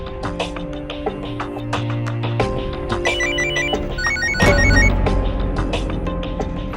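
A telephone rings in a tense TV crime drama scene, its repeated electronic ringtone clear over steady background music, with no one speaking.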